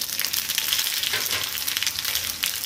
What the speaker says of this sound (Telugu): దీన్ని కొంతసేపు ఫ్రై చేయాలండి.